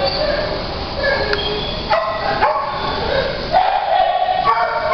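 Several dogs bark and yip in an animal shelter, a mix of sharp barks and whimpers layered over one another in a noisy, echoing kennel room.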